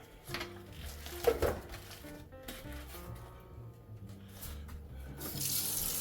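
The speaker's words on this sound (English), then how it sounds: "I rinse all my meat. Sorry if you can't see, but I'm just rinsing it." Tap water runs into a sink while meat is rinsed under it, with close splashing and a gurgling flow that swells midway and again near the end.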